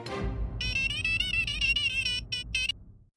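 A warbling electronic phone ringtone plays during a speed-dial call, fairly quiet, with a few short repeats near the end, over a low background rumble of room noise.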